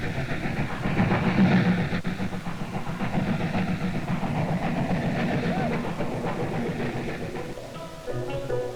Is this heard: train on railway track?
yes